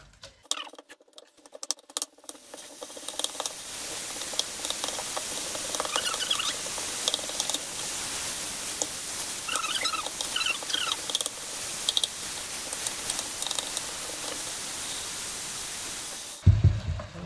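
Water poured into a hot frying pan gives a steady, dense sizzling hiss that starts after a quiet couple of seconds and continues loudly, with crackling pops throughout, ending in a brief louder clatter.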